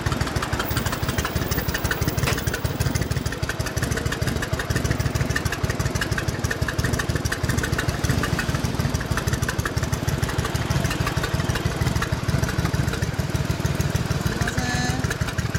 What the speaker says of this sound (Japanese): 1100か、オッケー、エンジン聞かせてもらおうかな。